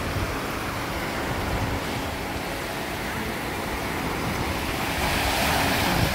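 Ocean surf breaking on Myrtle Beach in South Carolina, a constant loud wash of waves with heavy wind buffeting the microphone, swelling slightly near the end, no voices.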